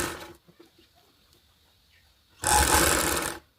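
A sewing machine stitches a katori blouse in one dense, loud run of about a second. It follows a quiet stretch with faint handling sounds and stops abruptly.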